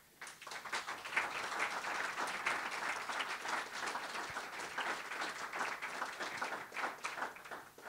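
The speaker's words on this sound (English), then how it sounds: "I think we need to really give them a round of applause." Audience applause at a book launch event: sustained, dense clapping from a sizeable crowd, steady and loud throughout with no talk over it.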